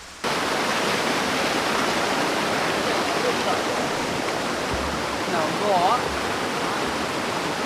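A forest waterfall roars steadily and loudly after a brief quiet start, with someone speaking briefly over the rushing water.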